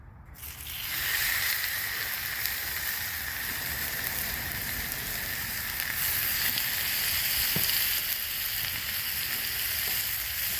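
Two boneless, skinless chicken thighs seasoned with salt and pepper sizzle steadily in oil on a Blackstone griddle at medium heat, a loud continuous crackling hiss that starts right away and holds for the whole stretch.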